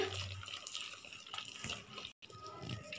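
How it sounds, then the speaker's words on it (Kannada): Water is poured into thick wheat flour batter for instant masala dosa, a close, steady trickling splash with a brief pause and no talk. "ನಾವೀಗ ನೀರು ಹಾಕ್ಕೊಂಡು ನಮಗೆ ಎಷ್ಟು ನೀರಿನ ಕನ್ಸಿಸ್ಟೆನ್ಸಿ ಬೇಕೋ ಅಷ್ಟು ನೀರು ಹಾಕ್ಕೊಂಡು ಕಲಿಸ್ಕೋಬೇಕು"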